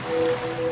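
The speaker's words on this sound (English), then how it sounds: "now you're drifting asleep to the scent and sound of waves." Ocean waves play as a radio ad sound effect, a brief steady wash of surf with a faint tonal hum running through it, no voices.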